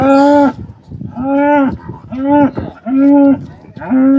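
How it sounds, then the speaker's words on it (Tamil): A large dairy cow moos loudly and close, five long, deep calls in a row separated by short pauses. "மாடு ஏதோ சொல்லுது என்ன சொல்லுதுன்னு தெரியல"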